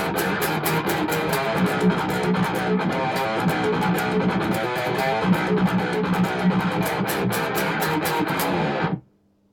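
Distorted electric guitar plays a song riff through effects, a dense, steady strummed rhythm with regular accented hits, loud and close, stopping abruptly near the end.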